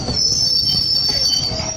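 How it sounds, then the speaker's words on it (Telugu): A train pulls in with its wheels squealing on the rails, a steady high metallic screech held over a low rumble of railroad cars. It lasts about two seconds and there is no talking. "ట్రైన్ వచ్చింది"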